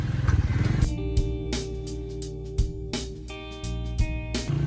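A motorcycle rides through an early-morning town street, its engine droning close with repeated rises and drops in revs as it accelerates and shifts.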